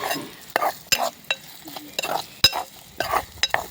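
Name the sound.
roasting ingredients in a pan, stirring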